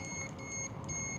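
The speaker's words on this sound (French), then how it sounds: "Le klaxon. J'avoue, le klaxon, il est balèze hein" Horn of a Sigma Mihunter X02 electric scooter, a faint, thin electronic tone held steady for about a second at a distance, with no talk over it.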